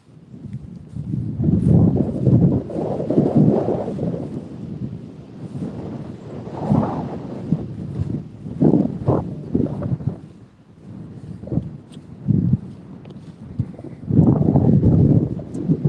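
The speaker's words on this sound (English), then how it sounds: "hopefully the wind is not quite as bad for you all" Gusty wind blows outdoors across a Kentucky horse farm, buffeting the microphone in uneven, rumbling bursts that rise and fall throughout, loud and close, with no talking.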